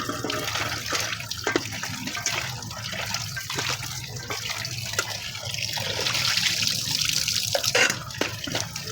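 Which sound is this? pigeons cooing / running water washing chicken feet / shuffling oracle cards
running water washing chicken feet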